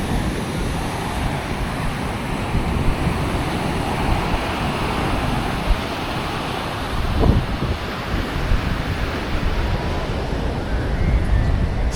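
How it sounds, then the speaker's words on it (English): Continuous ocean surf rolling onto the beach at Cocoa Beach, a dense, even wash of breaking waves heard up close, mixed with wind buffeting the microphone. "It's nice to walk on the beach."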